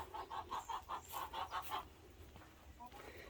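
Several hens cluck in a rapid, rhythmic run of calls close by, then quieter scattered clucks and rustling in an enclosed space.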